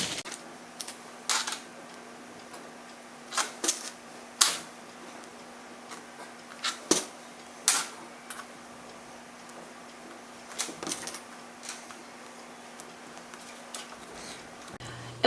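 A sewing machine stitches close along a cord while sewing fabric tubing, giving faint, irregular ticking and clicking bursts over a steady low hum, with no talking.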